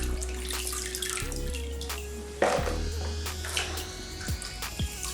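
Cassava pieces are lifted out of a basin of water, with splashes and drips over a low steady hum, one louder slosh midway and a few small knocks near the end; close and fairly quiet.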